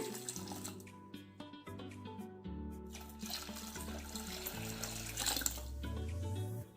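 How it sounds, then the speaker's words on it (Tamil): Water poured from a vessel into a pot of kollu rasam (horse gram rasam) in a home kitchen, a steady gurgling stream that swells and splashes, continuous and fairly close with no talking. "இப்போ இந்த ரசத்துக்கு தேவையான அளவு தண்ணி சேர்த்துருங்க."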